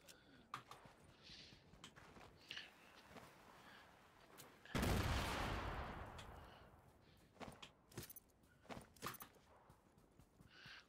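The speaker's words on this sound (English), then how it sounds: "Who's throwing grenades?" Grenades explode in a video game: one big booming blast with a long rolling tail, surrounded by scattered sharp gunfire-like cracks and thuds, fairly faint overall.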